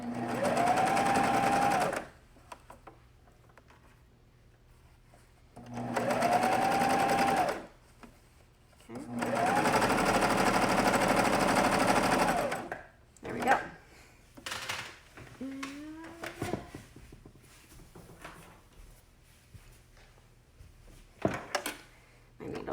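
Sewing machine stitching thick jersey fabric over a shim, three loud sustained runs of rapid motor whirring separated by pauses, followed by softer clicks, handling noises and thread-pulling sounds.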